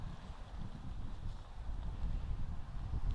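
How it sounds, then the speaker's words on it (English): Wind blows at an outdoor rally, a steady low rumble of gusts buffeting the microphone with no talk. "It's a little bit windy."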